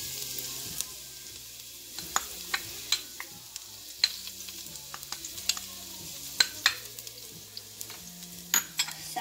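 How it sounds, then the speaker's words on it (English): Minced garlic sizzles in hot olive oil in a pot for a green onion and mushroom risotto, a steady close frying hiss broken by sharp crackles and spoon scrapes, with no talking. "Second, we put minced garlic inside the pot."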